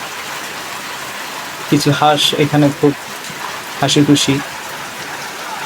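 Heavy rain pours over a flooded field with ducks playing, a steady hissing downpour underneath a voice, which speaks in two short bursts.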